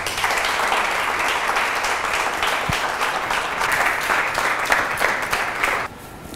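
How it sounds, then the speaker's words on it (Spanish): Studio audience at a televised comedy show in Equatorial Guinea applauding loudly and steadily for several seconds, a dense wash of clapping that cuts off near the end. "Un fuerte aplauso, por favor."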